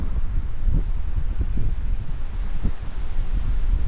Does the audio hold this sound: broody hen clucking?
no